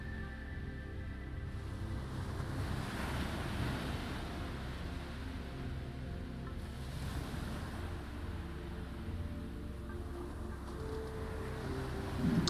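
Ocean waves wash steadily in the video game Fear Me: The Silent, a continuous low roar of surf with some wind, even and unbroken, with no voices.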